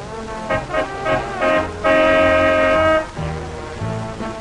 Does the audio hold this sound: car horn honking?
yes